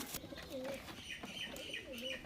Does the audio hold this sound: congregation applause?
no